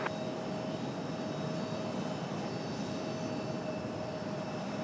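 An airplane at Raleigh Durham International Airport produces a steady, distant jet roar with a faint whine, constant and unbroken throughout.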